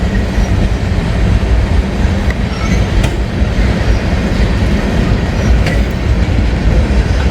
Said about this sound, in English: There is an Indiana and Ohio locomotive way down there in St. Bernard.